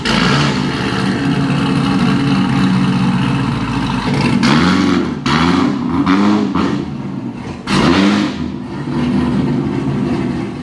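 A Corvette Z06 with a new cam and supercharger rumbles loudly at close range, its choppy idle broken by several sharp throttle blips and revs that rise and fall over a continuous engine drone.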